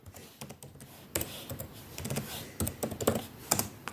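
A password is tapped out on a laptop keyboard, close and fairly quiet, with irregular key clicks speeding into a busier burst of strokes and no talking.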